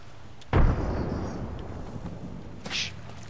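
A frag grenade detonates in a battle royale video game with a single loud, close boom. A rumbling decay follows, then a brief sharper pop near the end.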